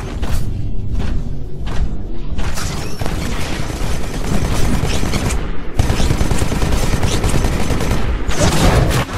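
Titanfall Vortex Shield in a video game fires back absorbed gunfire in a dense, continuous volley of loud rapid shots and thuds, with brief gaps, filling the whole stretch.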